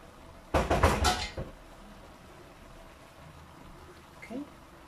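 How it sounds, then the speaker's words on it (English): A metal lid set onto a cooking pot over high heat, a quick cluster of clanking and rattling knocks lasting under a second, close and fairly loud, then quiet with a faint later clink. "I'm gonna put on the lid and just give it a vinnige cookie, a quick boil"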